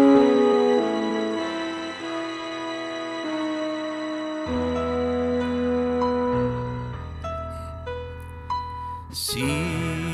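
Spanish-language romantic ballad aired during a nostalgic evening radio show, with sustained instrumental chords and melody playing steadily without talk, building toward a brighter swell near the end.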